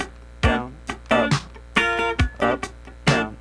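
Funk rhythm guitar part strummed slowly on the 2nd and 3rd strings, with short choppy chords and muted scratches in an up-down pattern, close and clear with no talking.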